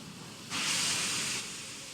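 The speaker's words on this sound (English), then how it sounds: "I heard a steam engine and there isn't one there." Steam engine in the Thomas and Friends Wonders of Sodor video game gives a sustained hiss of nearly a second, rising abruptly over a quiet background and then cutting off, with no talking.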